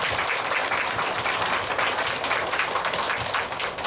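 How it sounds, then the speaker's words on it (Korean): An audience at a Korean women's committee workshop claps steadily throughout, dense and even applause heard close and loud with no voices over it. "박수 한번 주십시오."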